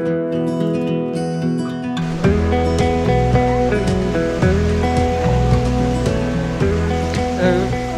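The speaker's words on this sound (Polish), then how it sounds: "wprawdzie mały wodospad, ale jakże piękny, urokliwy" A small waterfall at the Baths of Adonis in Cyprus pours in a steady, loud rush, with tonal music playing prominently over the water throughout.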